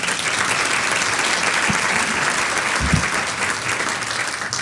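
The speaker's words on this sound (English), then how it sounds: "Let's give her a round of applause." Steady applause from an audience at a ceremony where new association officers are sworn in, loud and continuous for the whole stretch with no talking over it.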